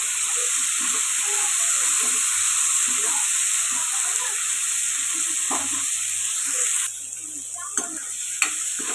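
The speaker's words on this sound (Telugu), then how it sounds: "మంటను మీడియం ఫ్లేమ్లో పెట్టుకొని ఇలా ఫ్రై చేసుకోవాలండి" Cashew nuts sizzle steadily in hot oil in a pan over a medium flame, a dense, loud frying hiss that runs throughout and thins out near the end, with a few light stirring clicks, for a paneer masala curry.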